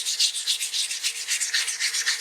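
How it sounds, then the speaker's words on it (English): Steady rhythmic wet sanding of a stone dental model with fine abrasive paper, soft hissing strokes repeating back and forth at a quick, even pace, close up. "we start sanding"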